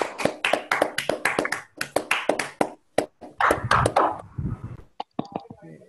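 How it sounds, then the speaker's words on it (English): Several people on an online mathematics lecture call clap unevenly through their microphones, a string of sharp close claps in bursts that thin out to a few last taps. "Let's unmute and thank Vishwanath by clapping."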